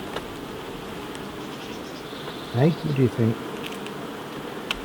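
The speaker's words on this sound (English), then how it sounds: "they're lovely, these bees" A steady, droning hum of honey bees buzzing fills the background throughout, with a person speaking briefly over it partway through.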